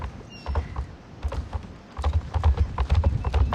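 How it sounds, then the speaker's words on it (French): A horse in the video game Star Stable Online canters along at a gentle, relaxed gallop, its soft hoofbeats falling in a steady, rhythmic clip-clop with no voices over it. "Je trouve il est sympa ce petit galop tranquille de Spirit, c'est détente en fait."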